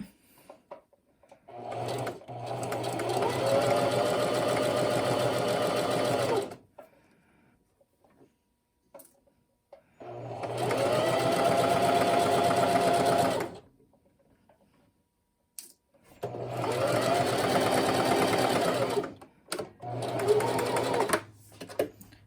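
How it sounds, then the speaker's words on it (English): A sewing machine stitches down the center front of a blouse facing in three steady runs of several seconds each, a close, even mechanical whir with quiet pauses and small handling clicks between bursts. "now I'm going to sew down center front"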